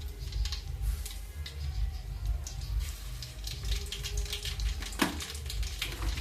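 Whole spices, bay leaf and star anise, crackle in hot ghee and oil for khichdi, making a soft, close sizzle dotted with tiny pops and ticks over a low background hum.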